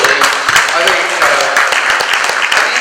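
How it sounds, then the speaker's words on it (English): Audience applause at a panel discussion on gold dore bar imports and refining, a dense steady patter of many hands clapping throughout, fairly close and loud. "Give them a round of applause."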